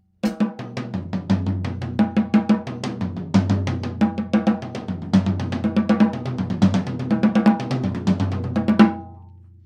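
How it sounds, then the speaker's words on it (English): Double paradiddle sticking moved down four drum kit toms with no snare, fast even strokes descending in pitch in repeating cycles, close and clear, ending on a ringing tom. "It is quite a cool exercise to not use the snare and just go all the way down the toms if you've got four of them."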